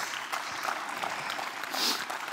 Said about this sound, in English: Come on, let's give the Lord hand clap.